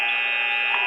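A basketball game-clock buzzer sounds at the end of a quarter in a women's college tournament final, one loud sustained electronic tone held steadily throughout with faint arena noise.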